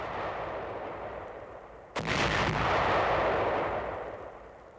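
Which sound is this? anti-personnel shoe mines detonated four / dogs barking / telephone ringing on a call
anti-personnel shoe mines detonated four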